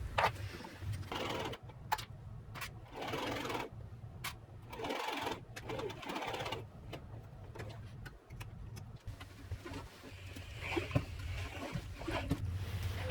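A sewing machine stitches the facing of a gold kaftan top in repeated bursts of fast, mechanical whirring and ticking, close and fairly loud, separated by brief pauses; no talking.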